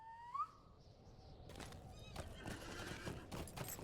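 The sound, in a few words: horse neighing and hooves in LOTRO video game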